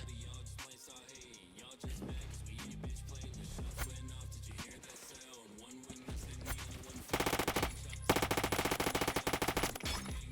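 An HK rifle in the Roblox video game fires rapid bursts and single shots at close range, loud and sharp, ending in a dense stretch of sustained automatic fire.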